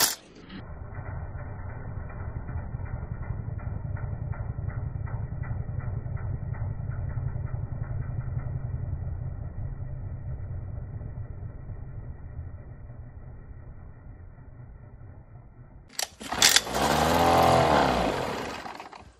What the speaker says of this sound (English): I got the engine running somewhat decently well